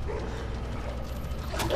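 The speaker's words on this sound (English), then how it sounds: "I can't kill this dog, bro." A dog in the Resident Evil 2 video game gives a short yipping bark amid a low game rumble, brief and fairly close, ending in a sharper burst.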